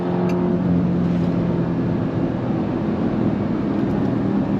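A 2026 Dodge Durango Hellcat SUV with a V8 roars hard under launch-control acceleration, a loud, steady engine drone with no talking over it.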